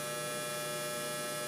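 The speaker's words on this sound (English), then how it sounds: "There goes my dryer." A home clothes dryer runs steadily nearby, a constant low electrical hum with a broad whirring drone and no breaks or other sounds over it.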